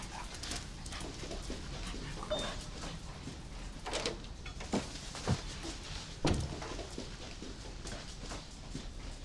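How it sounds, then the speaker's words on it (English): A dog moves about indoors in a room, with soft scuffling, paw taps and brief whimpers over a steady background hum, punctuated by a few louder knocks; no talking. "I told you before about bringing the dog in here"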